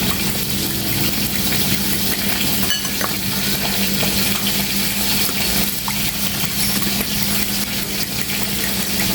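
Loud, steady sizzle of a mixture frying in a pan with continuous stirring scrapes, dense and close throughout with no talking.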